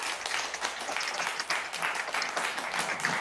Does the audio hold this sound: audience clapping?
yes